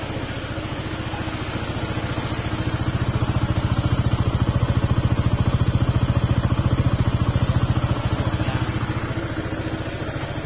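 A Honda PCX160 scooter engine with a smoking fault runs steadily at idle, close by. The note is a low, even, rapid putter whose volume swells slightly in the middle and then settles back. No one speaks.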